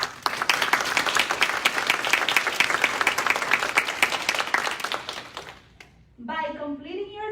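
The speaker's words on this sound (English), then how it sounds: "Give yourself and your faculty an applause for the determination and hard work to achieve this" An audience at a nursing pinning ceremony claps in loud, dense applause that fades away, then a speaker's voice comes in alone.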